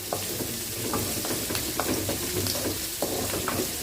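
Boiled salted chickpeas being stirred in a hot pan: repeated scraping spoon strokes over a constant sizzle, close and fairly loud.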